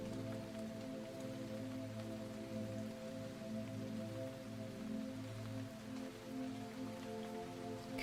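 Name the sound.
light rain patter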